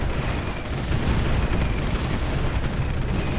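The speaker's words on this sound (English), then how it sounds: "I'll have this destroyer move up a little bit to start bombing these Manchurian units." A naval destroyer bombards enemy units in the strategy game Supreme Ruler 2020, a dense, continuous roar of explosions and artillery rumble at a steady loud level.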